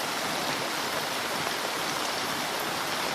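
Heavy rain pours steadily in rural Kenya, a dense, even hiss of drops that stays loud and unbroken throughout, with no voices.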